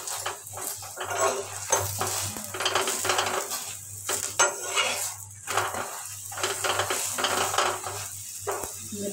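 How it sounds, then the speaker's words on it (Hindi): A paneer paratha fries in ghee on a flat pan, with crackling sizzle and spatula scrapes against the pan over a steady low hum, the frying rising and falling in short bursts. "घी लगा रही हूँ अब।"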